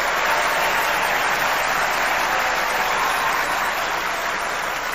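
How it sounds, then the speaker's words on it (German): Loud, continuous studio audience applause on the German TV entertainment show Wetten, dass..?, a dense, even roar of many hands clapping close up for the full five seconds. "Und dafür nochmal einen Applaus nach Nürnberg."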